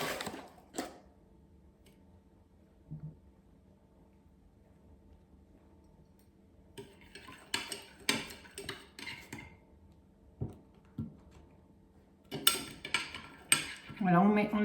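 Sugar is stirred into water in a cooking pot to make syrup, heard as scattered light clinks and scrapes of a utensil against the pot, sparse at first and busier toward the end, with quiet pauses between.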